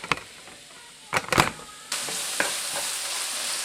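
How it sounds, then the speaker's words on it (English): Hamburger meat fries in a pan, a loud broad sizzle that swells into a steady hiss after a few scraping stirs and clatters. "So I'm going to fry this up and we'll get back to you."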